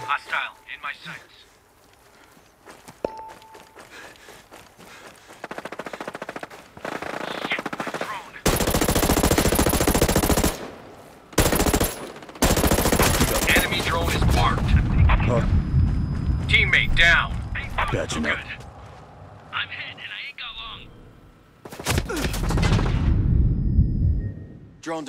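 Bursts of rapid automatic gunfire and loud blasts from the video game Tom Clancy's Ghost Recon Breakpoint in PvP, interrupted by brief quieter stretches, with voices in between.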